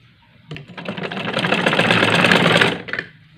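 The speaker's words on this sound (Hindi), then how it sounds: "इसके बाद ये छोटा वाला साइड भी बारीक डबल करके सिलाई कर दूंगा" A sewing machine stitching a curtain edge runs in one continuous close, loud burst of rapid rhythmic needle chatter, starting abruptly, holding steady for about two and a half seconds, then stopping, with no voices.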